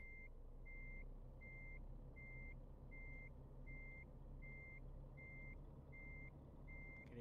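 Reversing beeps from a Renault truck in Euro Truck Simulator 2 sound about ten times at an even pace, clear and steady over a low engine rumble.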